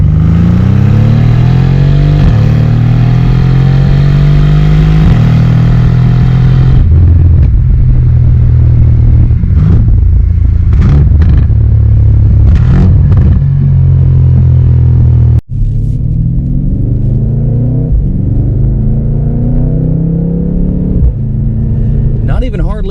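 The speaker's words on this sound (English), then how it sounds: "I am going to give you a nice exhaust clip before we go out" A 2021 Mercedes-AMG C63 sedan's exhaust roars loudly up close as the engine revs repeatedly, deep rumbling swells climbing and falling with crackles between, then a brief cut and another strong rev.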